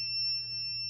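Continuity beep from a multimeter while testing an Xbox Series X board with a shorted ESD fault: a steady, close, high electronic tone held without a break.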